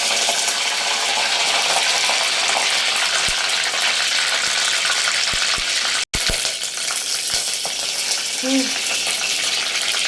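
Curry leaves crackling in hot oil with mustard seeds for matka poha, a loud continuous close sizzle with a few sharp clicks and a brief break partway through.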